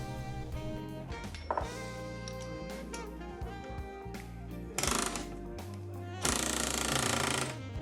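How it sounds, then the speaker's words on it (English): A pneumatic air hammer with a custom chisel knocks the grease cap off a 1949-54 Chevy idler arm, a loud, rapid, steady hammering rattle in several long close bursts with brief pauses between them. "I'll use my air hammer with a custom chisel to remove the end grease cap."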